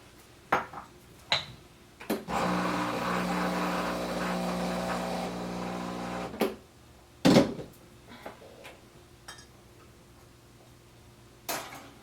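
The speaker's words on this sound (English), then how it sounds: "then I'm going to pull the shot and let this shot fall directly into the cup." An espresso machine pulls a shot straight into a cup for iced coffee: a steady pump hum that runs about four seconds, framed by clicks and light clinks of cup and equipment.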